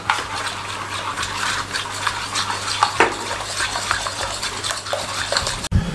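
A chicken marinade for whole fried chicken is mixed with two tablespoons of oil, giving a close, continuous wet squelching and scraping of the mixing that ends in a sudden knock.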